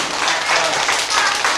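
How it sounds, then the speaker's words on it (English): An audience claps for a young man at a school assembly, a brief burst of dense, steady applause filling the room. "Give that young man a big clap."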